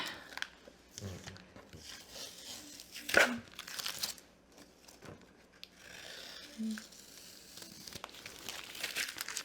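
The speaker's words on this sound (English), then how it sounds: "I'm going to take the tape off" Holbein soft tape peels off watercolor paper in a cotton sketchbook with a few crinkly tearing rips between quieter handling noises, close and fairly soft.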